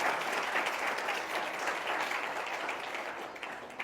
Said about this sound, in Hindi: इसलिए एक बार ताली तो बजती है।